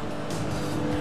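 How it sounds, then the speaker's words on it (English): A failing car engine in the GTA 5 video game gives a brief, loud, rough mechanical roar, close and continuous, with no speech over it. "Now that doesn't sound good! Hey, that's the engine, man."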